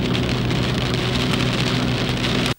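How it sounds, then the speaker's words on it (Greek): Hail pours down over the Mesara plain in a dense, loud, steady clatter of countless impacts that continues without pause until it cuts off abruptly at the end. "Πρωτοφανής χαλαζόπτωση χτύπησε την καρδιά του κάμπου της Μεσαράς."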